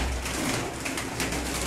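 Pigeons cooing at a high-flying pigeon loft, a soft low murmur of calls running steadily through the short stretch amid faint background noise.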